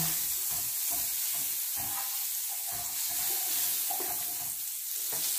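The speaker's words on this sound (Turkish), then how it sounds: "Biraz tereyağımızı alıyoruz. Şöyle tavamızı güzelce bir yağlıyoruz yeterince." Butter sizzles steadily in a frying pan being greased to cook fish, a soft continuous hiss with faint scraping and light clinks, no one talking.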